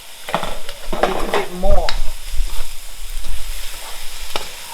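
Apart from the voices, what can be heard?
stir-frying tofu and broccoli in a pan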